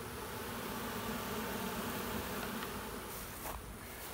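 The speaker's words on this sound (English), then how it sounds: "There's our back bucket full of bees." Dense, steady buzzing of a bucket full of bees just collected from a hive removal in Louisiana, loud and continuous throughout with a close, swarming hum.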